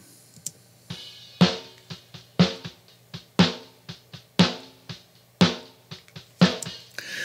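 A snare drum part played through a vintage keys preset instead of a snare sound, giving roughly a dozen sharp, clicky hits in a steady pattern with quick decays, loud and close with no talking.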